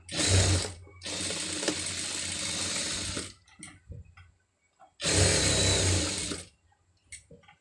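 A sewing machine runs in bursts stitching around a sleeve design, with a short fast run, a longer steady whir, then another short burst, separated by pauses with small clicks and handling noises, loud and close.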